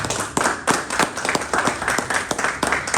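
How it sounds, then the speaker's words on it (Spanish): A church congregation claps hands together in a steady, even rhythm, a dense wash of many palms striking in unison, close and lively with no voices over it. "denle una ofrenda de palmas al Señor"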